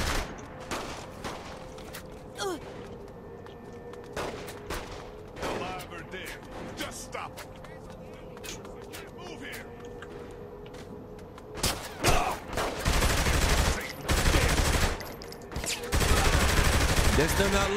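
Video game gunfire from Saints Row The Third, with bursts of shots scattered through the scene and a heavy, dense volley of rapid fire near the end, mixed with game sounds and voices.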